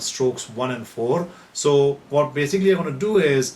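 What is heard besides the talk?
No everyday noises stand out.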